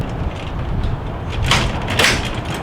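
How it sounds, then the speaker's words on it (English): A greenhouse door is fitted onto its sliding track with a steady scraping rumble and two short, brighter rasping slides near the end, close up over low background noise. "Okay, now we're going to put the door on."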